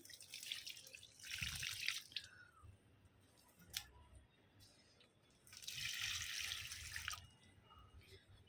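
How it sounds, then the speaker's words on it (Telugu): Water poured onto potted plants, a trickling, splashing flow in two bursts with quieter drips and handling noises between, close and soft. "ఇలా మనం అన్ని మొక్కలకి వాటరింగ్ చేసేసుకొని మీతో కలుస్తాను"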